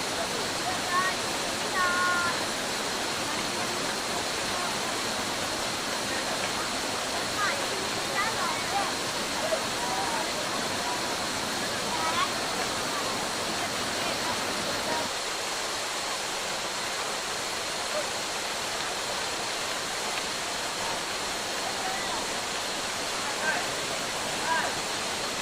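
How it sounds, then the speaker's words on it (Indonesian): Curug Temon waterfall in Sumbertani village, a steady broadband roar of falling water that stays loud and constant throughout, with no voices over it. "sampailah kami di air terjun Curug Temon"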